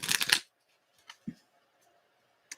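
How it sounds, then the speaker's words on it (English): A deck of tarot cards is shuffled in one quick, crisp riffle lasting under half a second, followed by a few faint taps and near-silence. "Let me just shuffle the cards."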